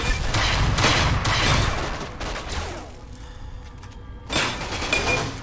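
Sustained gunfire in Fallout: New Vegas during a fight with Jackal gang members, dense overlapping shots and booms that ease off midway, then a fresh loud volley near the end.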